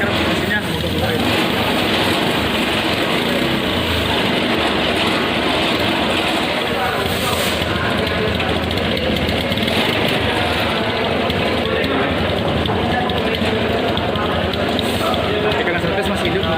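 A Honda PGM-FI fuel-injected motorcycle engine idles steadily and continuously throughout, loud and close, with a constant low rumble and no pauses.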